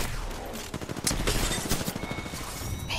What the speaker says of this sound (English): I'm shooting at the other guy